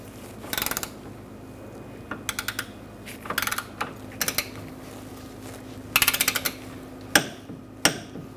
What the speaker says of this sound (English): now we're going to torque this nut to 42 foot-pounds